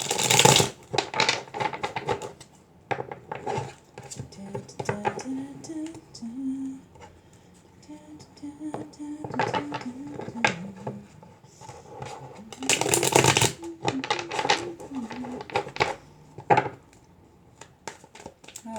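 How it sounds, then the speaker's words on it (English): A deck of cards shuffled vigorously up close, rapid clacking and riffling in bursts, with a couple of louder flurries and a low hum in between. "This one I always have to give a really good shuffle."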